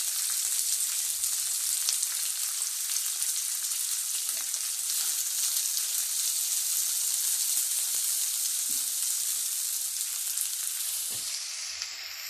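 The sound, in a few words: chopped onions frying in pan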